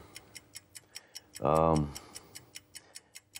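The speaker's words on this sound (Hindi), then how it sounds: "घड़ी की टिक टिक भी साफ सुनाई दे गई।" A clock ticks in a quiet room, with evenly spaced, faint, crisp ticks running throughout, briefly interrupted by a short burst of voice or laughter in the middle.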